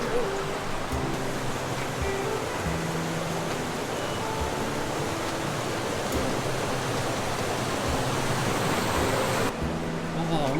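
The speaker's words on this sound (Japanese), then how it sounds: "ああ、雪解けか。 水の音が。" Snowmelt water flows steadily near Nozawa Onsen in Nagano, a broad continuous rushing wash heard up close, with faint traces of people talking beneath it.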